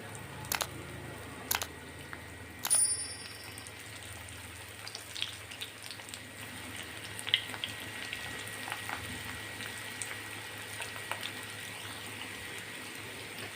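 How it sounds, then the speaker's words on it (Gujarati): Potato sticks for crispy aloo balls are dropped one by one into hot oil, setting off a steady bubbling fry with scattered crackles and pops and a few sharper clicks near the start. "તેલ આપણું ગરમ થઈ ગયું છે, તેમાં આપણે એક પછી એક બધી જ સ્ટીકને એડ કરી દઈશું"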